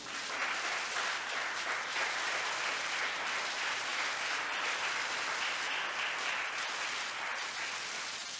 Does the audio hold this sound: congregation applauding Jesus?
yes